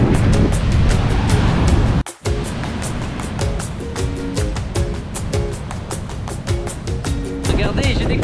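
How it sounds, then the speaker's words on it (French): Big waves surge and break on a beach in southern Corsica, with strong wind buffeting the microphone; the roar is loud and continuous, briefly cut once, with faint other tones drifting in. "il y a toujours du vent et des grosses vagues"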